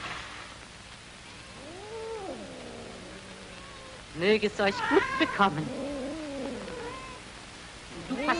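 Several cats meow and caterwaul indoors at feeding time, one drawn-out call first and then a busy cluster of overlapping cries, with someone speaking German over them.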